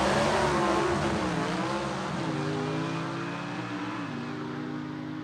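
Drag racing gasser cars rolling forward at Gulfport Dragway, their engines rumbling steadily at close range with shifting tones as they creep ahead, then easing off toward the end.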